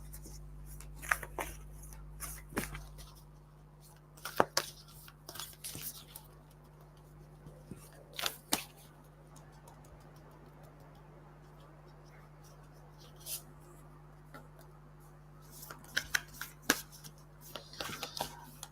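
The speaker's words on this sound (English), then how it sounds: "I'm going to look at the other oracle cards and pick a card for you from this" An oracle card deck is shuffled and cards are picked, giving soft, scattered riffling and tapping bursts with quiet gaps between them, close by in an otherwise calm room.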